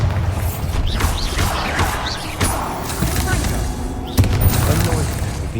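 Bombarda spell explosion from Hogwarts Legacy, heard as loud booming blasts and crashes amid a dense, noisy spell-combat mix, with sharp impacts around the middle and near the end.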